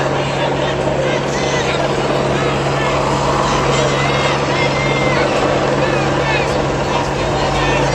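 Helicopter flying overhead during an outdoor rally in Atlanta, a loud, steady rotor and engine drone that fills the whole stretch, with crowd noise mixed in.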